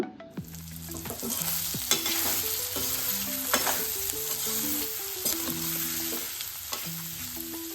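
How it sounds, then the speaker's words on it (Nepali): Soya chunks frying in oil with spiced sauce, a steady close sizzle broken by repeated scraping and clinking as a utensil stirs them around the pan. "अघि निचेर राखेको सोया चङ्क्स पनि राखिदिने र यसलाई पनि मजाले 3-4 मिनेटसम्म फ्राई गर्ने"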